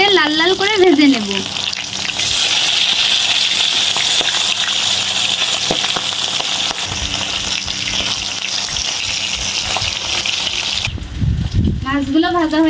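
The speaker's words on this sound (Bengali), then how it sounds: "মাছগুলো আমি উল্টে পাল্টে লাল লাল করে ভেজে নেব" Rohu fish pieces frying in hot oil for a home-style Bengali fish curry: a loud, steady sizzle that fills the clip for about nine seconds, with voices talking briefly at the start and end.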